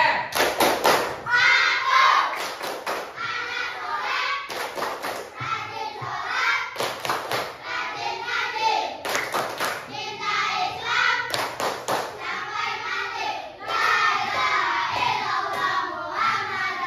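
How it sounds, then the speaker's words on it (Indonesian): A classroom of students performs a rhythmic clapping chant during a lesson break, sharp group claps in patterned bursts alternating with chanted voices, loud and close throughout. "Tepuk anak soleh."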